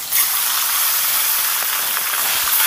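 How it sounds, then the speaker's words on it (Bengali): Small fresh bata fish frying in hot mustard oil in a kadai, a steady close hiss and sizzle that runs without a break for the whole short stretch, with no voices. "এবার মাছগুলোকে আমি ভেজে নেব।"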